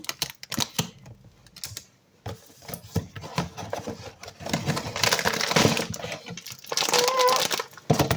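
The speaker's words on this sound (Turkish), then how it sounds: "ben kutusunu saklayacağım için şuradan açacağım. Açıyorum." Opening a Labubu toy box, with close crinkling and crumpling of packaging, tapping and rustling handling noises in uneven bursts, no talk.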